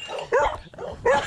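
A dog barks and whimpers in two short bursts of high yelping cries, close by, with brief pauses between.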